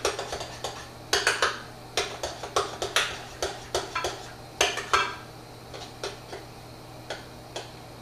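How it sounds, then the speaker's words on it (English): A spoon stirs organic strawberry chia seed jam in a pot, producing a close, irregular series of sharp clinks and scrapes against the metal, with no talking. "I'm just going to give my organic strawberry chia seed jam another stir while I'm waiting for this to brown."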